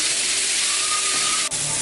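Onions sauté in a pan for Madurai kari dosa, giving a steady close sizzling hiss with no talk.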